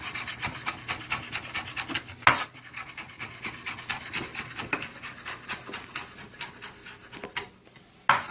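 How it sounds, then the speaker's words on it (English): A knife chops tarragon on a wooden cutting board in a steady run of quick, crisp taps, close and fairly quiet, with no talking. "I'm going to chop a little tarragon to put in my egg wash here"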